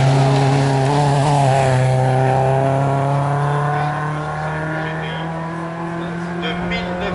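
Historic race car at a hill climb, its engine droning steadily loud and close as it accelerates with a rising harmonic tone, gradually fading slightly as it pulls away up the course.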